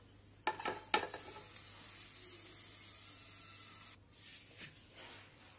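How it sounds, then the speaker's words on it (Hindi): Spinach is added to a kadhai and stirred: a couple of soft clanks and rustles, then a faint, steady sizzling hiss, with more quiet stirring near the end. "कढ़ाही में आप पालक ऐड कर दें।"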